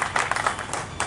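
Brief audience clapping at an outdoor tree-planting event hosted by a Jain social group and traders' association in Nagda, scattered hand claps in quick bursts, moderately loud and close.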